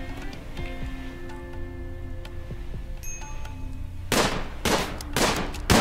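Gunfire while hunting in RimWorld Alpha 15 comes as three sharp, loud shots near the end, separated by short gaps, over a steady game soundscape of tones and ticks.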